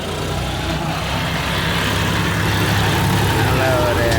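A vehicle engine rumbles loud and close, with a low steady drone and no clear change, while voices murmur underneath.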